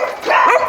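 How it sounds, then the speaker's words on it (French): Creole puppies at an animal shelter let out short, high yips and a whiny bark close by, a brief burst of excited puppy voices. "Ça, c'est typiquement des chiens créoles."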